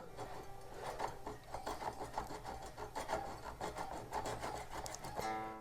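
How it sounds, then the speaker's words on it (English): Guitar frets being leveled with the strings still on, a faint, close rhythmic scraping and rasping of strokes repeated in quick succession. "Little fret leveling while the strings are on."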